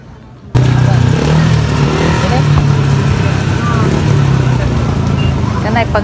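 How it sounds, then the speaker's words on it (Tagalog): Motorcycle engines roar loudly and continuously as the bikes ride off a RoRo ferry at Cordova at night. A strong engine rumble starts suddenly and stays close, with people talking nearby. "Kanay pagawas ng motor."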